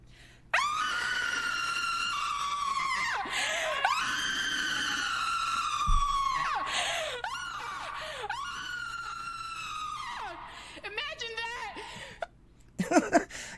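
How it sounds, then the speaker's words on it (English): A person screams over and over in long, strained, wavering cries with brief gasping breaks, loud and close, ending in choppy, broken sounds. "You're sitting there screaming."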